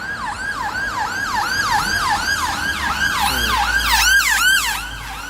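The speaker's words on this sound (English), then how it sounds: "Ambulance." An ambulance siren wails loudly in a rapid rising-and-falling yelp, growing louder as it passes close by amid road traffic noise, with a deeper engine rumble near the end.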